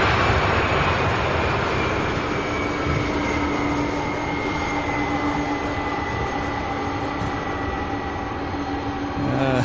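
A cargo jet lands at UPS Worldport, Louisville airport, at night: a steady broad roar with a faint whine, distant yet constant across the whole stretch, with no clear speech.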